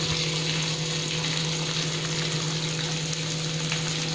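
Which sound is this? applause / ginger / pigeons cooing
ginger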